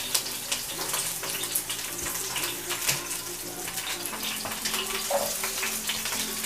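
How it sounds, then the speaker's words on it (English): Chopped celery and onions sauté in a hot pot as the base for a beef stew, making a continuous watery sizzle with small crackles and light clinks of a spoon scattered throughout. "Alright, I am back now for the sauteing of the veggies."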